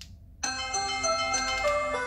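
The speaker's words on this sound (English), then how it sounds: "and then the alarm will be played on your phone." A phone alarm ringtone triggered by a GUUDGO GD-AL01 Bluetooth tracker starts after a short silence, bright electronic chiming tones repeating steadily.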